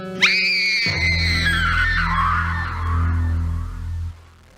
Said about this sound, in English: We heard the scream and rushed in and found Annabella unconscious on the floor.